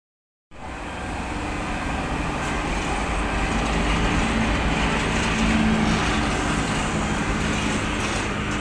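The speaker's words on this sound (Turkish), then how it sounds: "treni baya yavaş gidiyor" Heard from inside a carriage, a train moves slowly, and after a brief silence a steady low rumble and rolling hiss fade in and hold evenly, close and continuous, with no voices.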